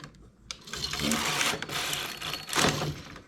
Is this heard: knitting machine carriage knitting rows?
yes